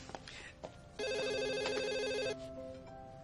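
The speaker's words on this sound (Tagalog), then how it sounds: "ako na po sasagot ang telepono" A telephone rings once in a single electronic burst lasting over a second, amid faint household noise and small clatters.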